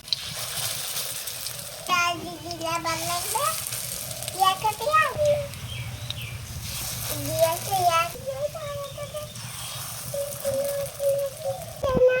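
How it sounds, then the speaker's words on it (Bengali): Hand-shaped lentil fritters made from ground dal with pad leaves crackle and sizzle in hot oil, a steady frying hiss running beneath an adult voice and a child's chatter. "একটা হাতের সাহায্যে একটু বড়ার মতো শেপ দিয়ে তেলে দিয়ে দেব"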